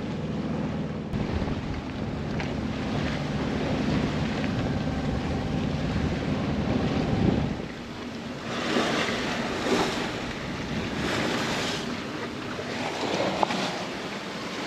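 Wind and waves at sea aboard a 30 ft sailboat under sail at night, about 34 miles south of the Big Island of Hawaii; steady blustery rush of wind and water with rising surges of wave noise, no voices.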